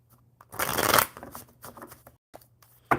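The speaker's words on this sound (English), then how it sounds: "shuffle up the cards" Tarot cards are shuffled close up in a dense, papery burst, followed by softer riffles and taps, with faint background hum.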